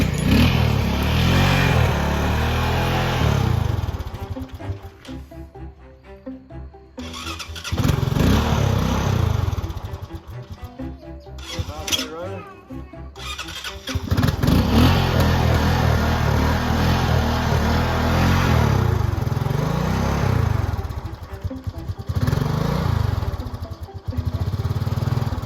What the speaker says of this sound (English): How can the four-wheeler pull this thing?